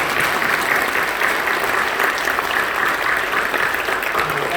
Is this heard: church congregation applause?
yes